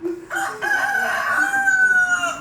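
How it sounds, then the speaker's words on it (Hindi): A rooster crowing sound effect rings out in a stage play, one loud, drawn-out cock-a-doodle-doo that rises and holds, heard clearly on its own. "अरे मुर्गे ने बांग दे दी क्या?"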